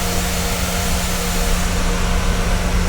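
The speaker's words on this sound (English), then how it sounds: "Sound of that engine, those engines and the plane, just beautiful aircraft" Twin jet engines of a Ryanair Boeing 737-800 in a flight simulator game hold a steady, droning roar with a constant low hum, loud and unbroken, with no voices.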